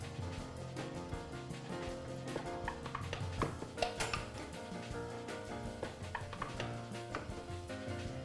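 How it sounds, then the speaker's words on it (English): Metal lids are screwed down tight on freshly sealed glass canning jars in a kitchen, giving a steady run of faint clicks, taps and light scraping with no one talking. "We're gonna tighten down the lids"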